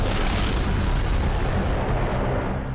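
Volcanic eruption, a continuous deep roaring rumble of molten rock forced to the surface, loud and sustained with heavy low-end booming texture and no voices.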